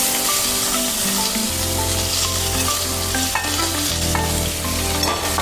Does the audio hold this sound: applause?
no